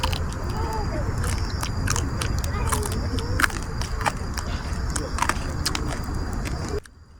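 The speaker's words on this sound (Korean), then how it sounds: "뼈가 그냥 오독오독 씹혀 바삭바삭." Close, crisp crunching as someone chews through wood-fire grilled quail leg bones at a solo campsite, with repeated sharp bites and chewing cracks in steady succession over a low outdoor background.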